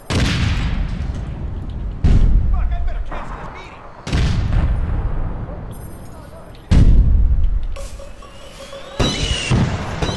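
Rocket explosions in APB: Reloaded, four heavy booming blasts spaced roughly two seconds apart, each with a long rumbling tail, loud and close amid game noise and talk.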